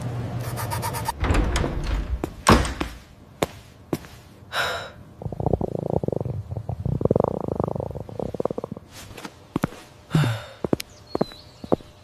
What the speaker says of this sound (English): his stomach growling and his mind blank with hunger